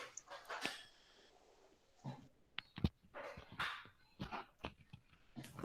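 A dog barks and yips in short, scattered bursts, faint and somewhat distant, with brief whimpering sounds between the barks.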